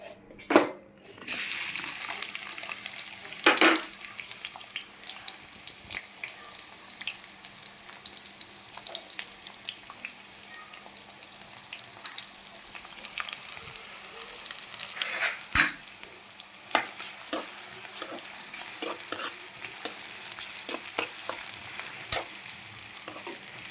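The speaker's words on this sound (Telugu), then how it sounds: "ఆయిల్ వేడెక్కిందిగా ఫ్రెండ్స్ పచ్చిమిర్చి ఆనియన్స్ వేసేసుకుందాం" Green chillies and onions sizzle and fry in hot oil, a steady crackling hiss running throughout with occasional sharper pops and the scrape of stirring, close and moderately loud with no talking.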